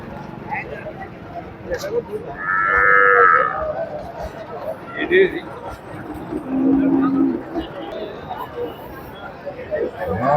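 Cattle low a few times at the busy Sardar Nagar livestock market, long moos rising over steady chatter from a crowd.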